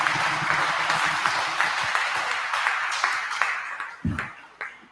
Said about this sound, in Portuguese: Gente, salva de palmas para a equipe